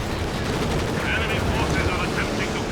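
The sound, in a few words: high-explosive artillery barrage in the video game Company of Heroes 2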